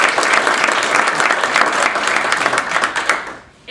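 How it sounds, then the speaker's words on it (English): Sustained applause from a crowd at a university luncheon, dense and steady clapping that fades out near the end. "Give a big round of applause for Lauren Gober."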